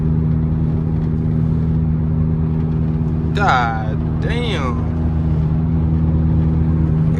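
Steady low engine drone of a Dodge Challenger SRT8 cruising through morning traffic on highway 83, heard from inside the cabin as a continuous hum, with a voice cutting in briefly partway through.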